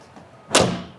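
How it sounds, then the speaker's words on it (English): A chassis-mount canopy door on an Isuzu D-Max swings down and latches shut with a single solid thud, loud and close, after a moment of quiet. "it'll latch in and hold that and allow that air to escape while you're shutting the door"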